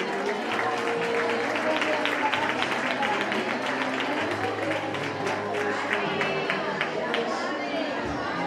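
An audience at a children's carnival costume contest claps steadily while crowd chatter and murmuring continue underneath, with a low hum running through the whole stretch.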